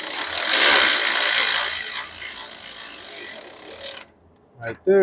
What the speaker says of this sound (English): Now I like to go on my wrench, and I like to feel for how tight the bolt's getting